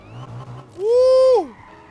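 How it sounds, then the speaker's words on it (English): A rising, sustained whine from a supercharged car while drifting in NFS Unbound, sweeping up sharply, holding loud for about half a second, then falling away over a low engine rumble. "Listen to that supercharger"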